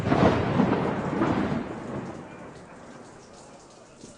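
Thunder rumbles over steady heavy rain in a storm effect for a Spanish audiobook of Moby Dick. It is loud at first and then fades to a softer wash of rain, with no voices.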